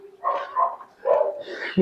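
Several dogs barking in short bursts at night, moderately close, with yips and a sharp final bark.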